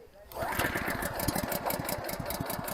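Honda GX200 engine on a tiller catching after a pull start: a close, loud, rapid chugging beat that settles into a steady run, with a voice speaking over it.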